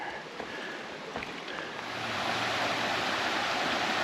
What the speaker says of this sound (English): A pretty little slab there getting poured over by the water